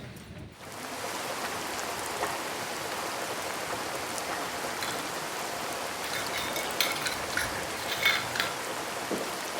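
Steady morning rain falls continuously around a home, an even wash of drops that stays loud and unbroken throughout, with a few brighter splashes near the end and no voices.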